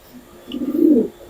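Racing pigeons coo softly in a loft during summer race season, a single low, rolling coo swelling in the middle of a quiet moment with no talk.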